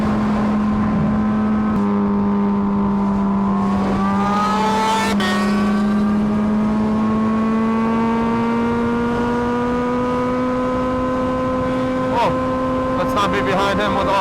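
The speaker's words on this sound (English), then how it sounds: "when I open up the throttle, this bike sounds so loud." Honda Fireblade motorcycle engine held at open throttle, a loud sustained high-pitched roar that climbs steadily in pitch over several seconds, close and dominant throughout.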